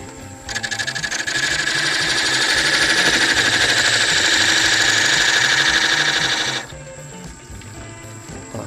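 A wood lathe spins a spindle while a parting tool cuts into it, a loud steady whirring buzz with a raspy cutting tone that holds for about six seconds, then stops abruptly, leaving a faint hum.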